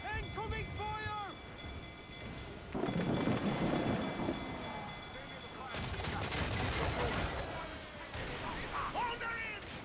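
Cannon fire in the naval battle of Assassin's Creed IV: Black Flag, heavy booming blasts and rumbling explosions rolling over sea and ship noise, with crew voices shouting between volleys.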